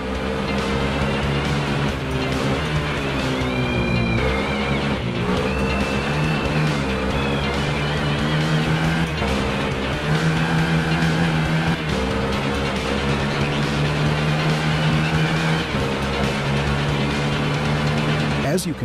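Racing motorcycle engine from the RIDE video game, a constant buzzing drone with shifting pitch as the bike accelerates and changes gear, loud throughout while a narrator talks over it.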